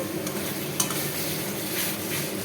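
Fish head masala is sautéed and stirred in oil in a pan, giving a constant close sizzle and fry hiss with a faint utensil clink partway through and no talk.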